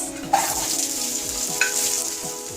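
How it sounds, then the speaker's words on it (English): Sliced onions frying in hot oil with dry spices, a steady close sizzle with a couple of sharp stirring scrapes of the spoon against the pan. "I'll fry the onions till they become golden brown"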